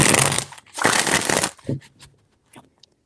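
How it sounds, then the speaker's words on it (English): Tarot cards riffled in several quick shuffling bursts, dense papery rustles lasting about a second each, followed by a few lighter card taps and pauses, close and fairly loud with no talking. "4 shuffles."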